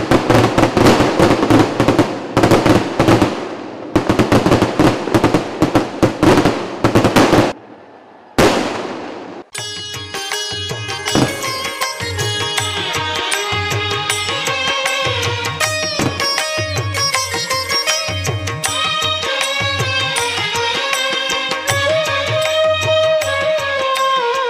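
Fireworks at the Uthralikavu Pooram temple festival crackle as a loud, dense volley of rapid bangs for about nine seconds, then give way to loud festival music and percussion.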